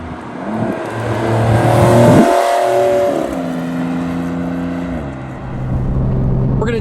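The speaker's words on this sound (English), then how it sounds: "that was able to put the power down just from a quick acceleration" A 2020 Porsche 911 Carrera S accelerates hard on a 39-degree day, its engine note climbing in pitch, dipping briefly at a gear change, then rising again as a loud, close, steady roar with no talking.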